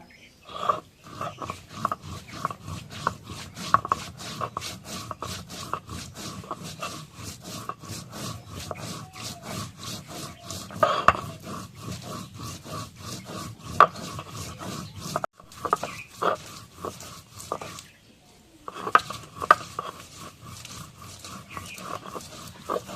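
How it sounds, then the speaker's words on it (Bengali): Rhythmic rubbing and scraping of cumin, garlic and onion being ground on a grinding stone, a long run of quick back-and-forth strokes, close but fairly quiet, with a brief pause partway through. "জিরা রসুন পেঁয়াজ বেটে নেই"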